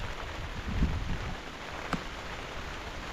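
Heavy rain pours steadily on a farm, a dense, even hiss throughout with a brief louder patter near the start and a sharp drip or tap near the end.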